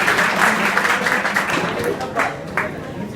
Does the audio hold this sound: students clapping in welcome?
yes